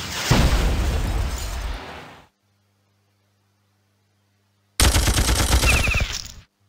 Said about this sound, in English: That's a very good machine gun attack.